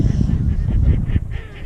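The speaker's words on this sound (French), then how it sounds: "T'entends ça la mélodie du canard?" Duck calls during a duck hunt: a run of nasal honking quacks in a rapid, rhythmic string lasting under two seconds, close and fairly loud against steady outdoor background noise.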